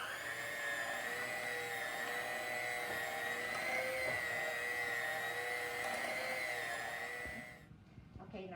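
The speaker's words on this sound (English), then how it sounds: "So I'm going to mix this with a mixer." An electric hand mixer whirs steadily through Texas sheet cake batter, a continuous droning hum with a few scraping changes, stopping abruptly near the end.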